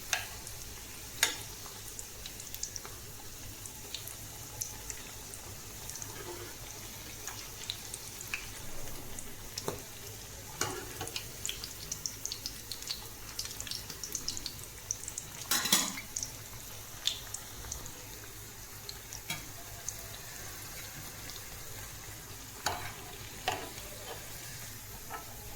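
Vegetable cutlets made from leftover beans and carrot shallow-fry in a pan with a faint, steady sizzle, punctuated by scattered light taps and clinks of a utensil against the pan.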